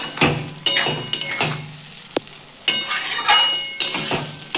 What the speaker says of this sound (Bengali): আমি একটু নাড়িয়ে দিচ্ছি পোস্ত দিয়ে